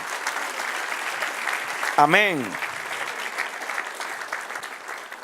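A church congregation applauds the Lord during a Spanish-language sermon, a steady bed of clapping running throughout while a voice calls out briefly over it.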